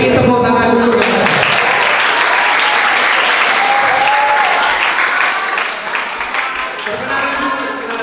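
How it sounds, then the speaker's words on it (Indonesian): Dense, loud applause fills the room at a dental health outreach session, sustained clapping for about eight seconds with scattered voices underneath, easing slightly near the end. "Beri tepuk tangan dulu."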